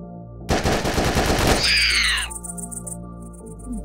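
Weapon gunfire in the video game Secrets of Wild Planet, set in a cave: a loud burst of rapid automatic shots lasting about a second, followed by a whining, ringing tail and faint high chirps.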